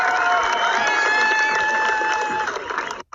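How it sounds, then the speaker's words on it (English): A crowd gathered outside the White House claps and cheers loudly and continuously, with raised voices and whistles layered over the applause before it briefly cuts off. "Please clap to the White House so that they can hear us,"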